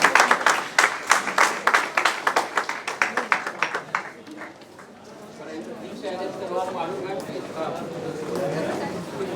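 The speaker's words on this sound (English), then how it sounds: "All external participants, please give them a huge round of applause." Audience applause for external participants at an institutional hackathon, a run of rhythmic, fairly loud claps for about four seconds, then fading into crowd chatter and talking voices.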